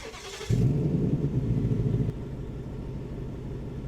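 A turbocharged Ford Mustang GT with a replacement engine starts up with a sudden loud rumbling burst, then settles into a lower, steady idle rumble close by, with no voices.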